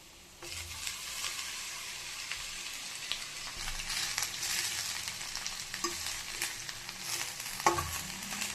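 Spinach and chopped onion frying in oil over a medium flame, a continuous crackling sizzle with frequent clicks and scrapes of stirring, close and moderately loud with no talk.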